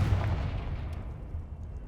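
A fiery Confringo spell blast in the video game Hogwarts Legacy, a single loud burst with a deep booming low end that decays over nearly two seconds.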